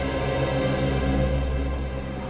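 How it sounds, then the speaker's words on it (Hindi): A phone rings with a steady, tonal electronic ringtone that holds at moderate volume for a couple of seconds, heard on its own without any talking. "एक मिनट, फोन आ रहा है।"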